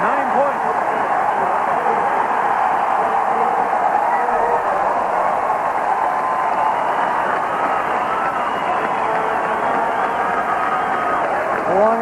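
About 25,000 fans at Taylor Field applaud as the Saskatchewan Roughriders' offense leaves the field during a CFL football game, a steady, dense wash of crowd noise under a commentator's voice.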